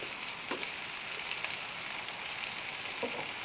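Butter melting in a hot cast iron pan, a steady close sizzle and fine crackle that stays even throughout with no voices.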